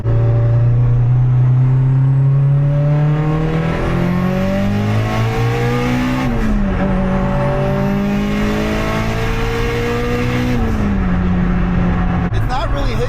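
A Mitsubishi Evo 8 engine pulls hard through third gear under turbo boost, a loud rising drone with a gear shift partway, then climbs again; voices are faintly audible under the engine roar.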